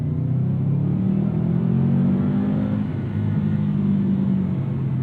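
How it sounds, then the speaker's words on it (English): A 2016 Subaru WRX STI with unequal length headers gives off a loud, continuous, low boxer-engine rumble from inside the car as it pulls steadily. "That Subi rumble, I do love the noise that Subarus make with those unequal length headers."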